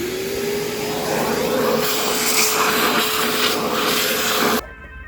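A machine cuts an O-ring groove 25 thousandths deep into a 12-valve Cummins cylinder head, producing a loud, steady high whine with a hissing, grinding wash for several seconds before cutting off abruptly.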